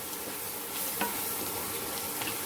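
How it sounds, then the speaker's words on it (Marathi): Coriander sautéed in a hot pan with oil, a dense steady sizzle with light stirring scrapes, close and continuous with no talking. "थोडीशी कोथिंबीर घालूया आणि याला परतून घेऊया"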